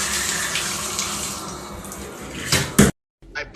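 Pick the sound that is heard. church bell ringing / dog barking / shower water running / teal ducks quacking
shower water running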